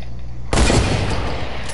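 A sniper rifle fires once in a PS4 shooter game, a sudden loud blast followed by a rolling, gradually fading echo.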